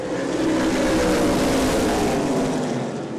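Outlaw Super Late Model race cars roar past at a speedway, a loud, continuous wall of engine noise that swells and fades slightly with no talk.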